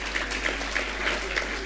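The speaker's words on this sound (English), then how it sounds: "give yourselves a cheer" An audience at the Enterprise NI Awards 2013 business ceremony gives a burst of dense, even applause mixed with cheering, filling the room for a couple of seconds.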